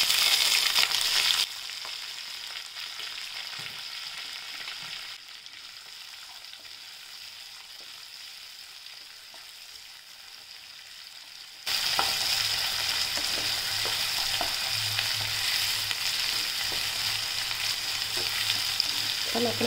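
Onion, green chili and curry leaves fry in a hot mustard-seed and cumin tempering for vermicelli upma, a steady crackling sizzle that eases after the first moments, then surges louder again near the end.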